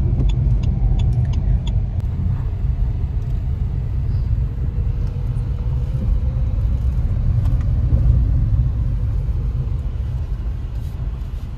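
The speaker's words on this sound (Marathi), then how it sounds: "आता कार ठेवतो इकडे" A car being driven and then parked gives a steady, close, low engine and road rumble throughout, with no talking.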